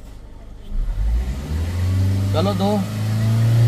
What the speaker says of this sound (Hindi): चलो रेस देना अब, देते जाओ देते जाओ